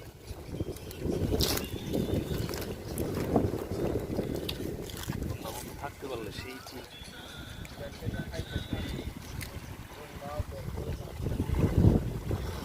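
Wind buffets the microphone in a steady low rumble beside water in the Rangamati hills, with faint voices and occasional splashes underneath.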